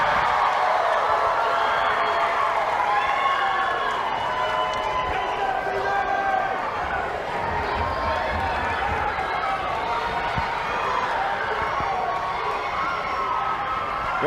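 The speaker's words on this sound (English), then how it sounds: "I don't think I've seen a crowd this electric and into every moment" Excited crowd at a Little League baseball championship game, Alabama versus Tennessee, with continuous loud cheering and children shouting that stays dense and steady throughout, with talk mixed in.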